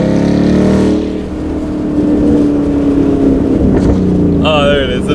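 Ford Mustang engine revving loudly at a supercar rally, a rough roar that swells and falls amid crowd and traffic noise, with voices speaking nearby.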